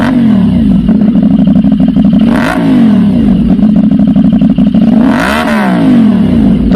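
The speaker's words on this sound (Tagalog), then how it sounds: "meron po itong bulky sound dahil sa naka 270 crank nga po ang kanyang firing order" A CFMoto 450 NK motorcycle with a 270-degree crank, its 450cc engine idling with a loud, bulky, uneven exhaust burble, then blipped into two sharp revs that rise and fall, close up and without talk.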